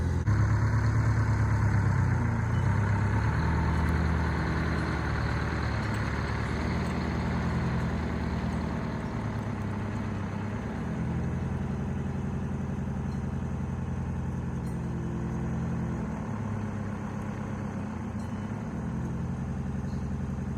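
A 1979 Western Star truck with a Detroit 8V71 two-stroke diesel idles nearby, a steady deep rumble with a low throbbing pulse that holds at a constant level throughout, with no voices.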